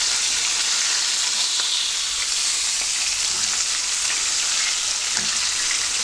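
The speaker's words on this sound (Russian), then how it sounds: "И чтобы у нас масло было максимально горячим. Берем и переворачиваем рыбку." Crucian carp frying in very hot oil gives a steady, loud, continuous sizzle and crackle with small pops, with no talking.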